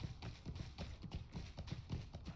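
Horse hooves clip-clopping in Lord of the Rings Online, a quiet, steady rhythmic trot of evenly spaced hoof beats with no other sounds.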